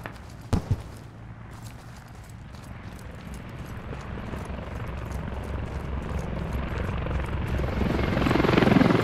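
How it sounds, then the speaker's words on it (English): Helicopter in the Call of Duty video game, a loud rotor drone that builds steadily over several seconds, with a couple of sharp thuds near the start. "get in the chopper."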